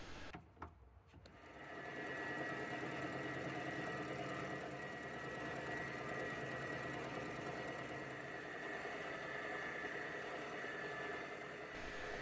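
Small lathe facing off a steel strap held in a collet for a model boiler feed pump: a steady mechanical whir with a sustained tonal hum that starts after a brief pause and runs on evenly.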